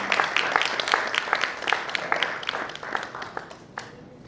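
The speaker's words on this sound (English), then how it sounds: "Let's give them a round of applause, ladies and gentlemen" Audience applause at a launch event in Kigali, Rwanda: a crowd's dense, steady clapping that holds for several seconds before gradually thinning, moderately close and without speech.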